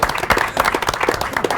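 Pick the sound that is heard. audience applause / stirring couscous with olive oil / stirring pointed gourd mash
audience applause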